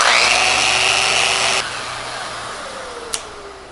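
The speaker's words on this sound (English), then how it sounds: "Switch her into Rotex." A Festool Rotex sander works a wooden jewelry box with a steady, loud whine that drops to a lower, quieter hum partway through, followed by a single brief click near the end.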